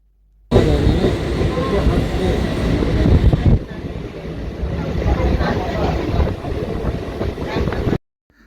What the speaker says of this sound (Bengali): ধানের জমির বুক চিরে আমাদের ট্রেন চলল বর্ধমানের দিকে।